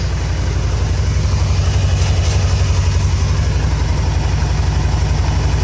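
A 990 Spyder motorcycle engine running on both cylinders idles steadily nearby, a loud, even low thumping that holds a constant rhythm throughout.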